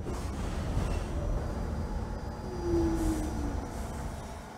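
NYC subway N train in Trainz Simulator 2012, steady rumbling car noise with a continuous low drone and a faint squeal of wheels, running alone without talk.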